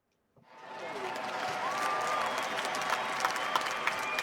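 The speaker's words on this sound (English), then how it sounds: "that would be the congratulatory sound effect" A game's congratulatory effect: applause and crowd cheering swell in quickly from silence and hold steady, with a few scattered sharper claps.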